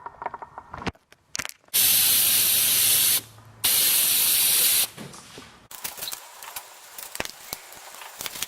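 Two long, loud bursts of spray paint hiss from an aerosol can coating sanded Yamaha Banshee ATV parts, each lasting over a second, separated by a short pause and surrounded by quieter handling clicks and rattles.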